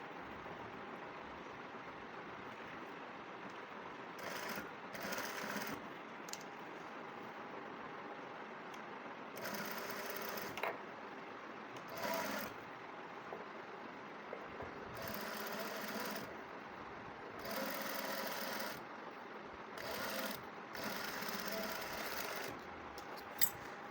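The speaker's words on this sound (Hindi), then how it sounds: "तो ये देखिए इसको हम यहाँ पर इस तरह से पलटेंगे और यहाँ पर सिलाई लगाएंगे।" A sewing machine stitches a hook-and-eye strip onto a blouse in bursts of steady whirring, starting and stopping several times with short quiet gaps between runs, close and clear with no talk.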